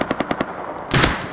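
Gunfire in the video game Rust: a rapid burst of five evenly spaced shots, then a louder, denser blast of fire, sharp and close.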